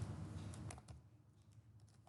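Someone types an SQL query on a computer keyboard, with a quick run of soft, close key clicks at a low level.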